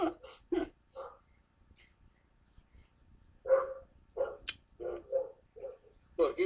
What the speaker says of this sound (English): Look, even the dog's saying buy it.